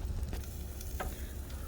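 Zucchini squash sizzles on a grill, a steady close hiss and crackle with a few brief pops, no voices.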